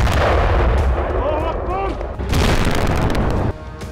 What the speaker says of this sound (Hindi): तेज धमाका और आग की लपटों में इजरायली सैनिक खाक।